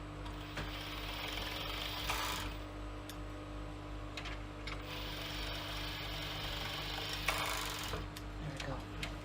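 A sewing machine stitches a card slot pocket for a clutch purse, giving a steady, close mechanical whir with a low hum and brief louder surges of stitching.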